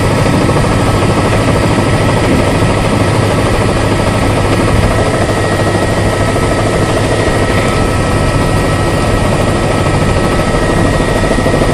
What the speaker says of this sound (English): helicopter flying right by it.